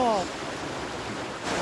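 A mountain stream and waterfall on the Mase River in Gifu give a steady broadband rush of water, close and continuous, with a brief voice at the start.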